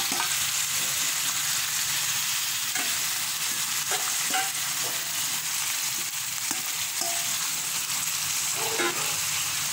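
Ground beef frying in a pan while a utensil stirs it, with a steady close sizzle and scattered scrapes and clicks of the spoon against the pan throughout.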